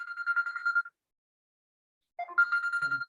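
A telephone rings in two short bursts of bright, warbling electronic tone separated by a silent pause of more than a second, fairly clear and with no talk over it.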